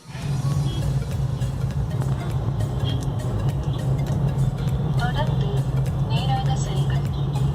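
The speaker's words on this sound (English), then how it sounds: "Facing quite a bit of traffic." Road traffic in Chennai with cars and buses fills the scene: a steady, fairly loud engine rumble with passing vehicles and occasional horn-like tones and beeps. Voices can be heard faintly within the traffic noise.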